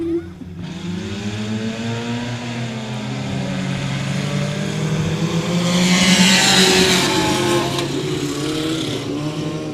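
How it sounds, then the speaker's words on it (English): Four-cylinder race cars lapping 67 Speedway in Mandeville, Arkansas during a heat race, a loud, continuous engine roar with revving pitch that swells as cars pass close by. "We're underway on the first lap of your 2nd and final 4-cylinder heat here tonight in Mandeville, Arkansas at 67 Speedway"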